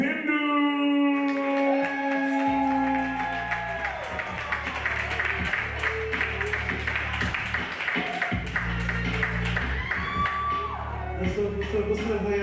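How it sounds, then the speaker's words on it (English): An open mic night crowd at a coffeehouse breaks into clapping and cheering, whoops and shouts rising over applause while a host's amplified voice and background music carry on underneath. "Please put your hands in and clap it up and show some love for Upindu."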